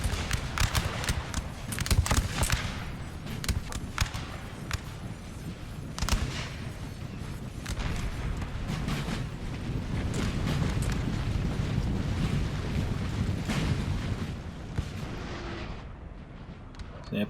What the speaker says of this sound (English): the United Kingdom's artillery, which is right now peppering him